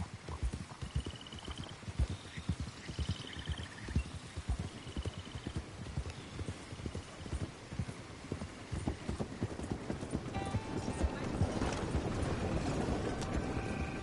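Horse hooves clip-clopping at a steady walking rhythm in Red Dead Redemption 2, close and continuous for the whole stretch, with faint birdsong above and a rising wind-like wash toward the end.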